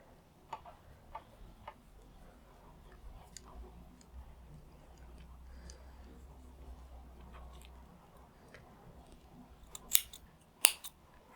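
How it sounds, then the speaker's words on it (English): Scissors snip waste yarn out of a tubular cast-on edge of knitting worked in the round. The snips come as soft, sparse ticks close by, with two sharper cuts near the end. "Once we've finished snipping out the waste yarn"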